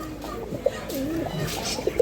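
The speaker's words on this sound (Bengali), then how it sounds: "এখানে দেখতেছেন এক জোড়া চুইটাল কাকজি কবুতর" A pair of white pigeons cooing nearby: soft low throaty coos, one or two brief calls over quiet background.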